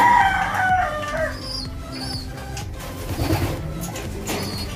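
Racing pigeons in a loft give soft, overlapping coos and bird calls, a steady mix of murmuring and occasional chirps close by with some background rustle.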